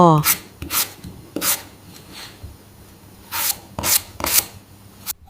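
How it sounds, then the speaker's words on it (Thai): Papaya is peeled and grated in a kitchen for som tam, giving separate rasping, scraping strokes a second or so apart, close by, with quiet gaps between them. "เริ่มจากการปอกและขูดมะละกอ"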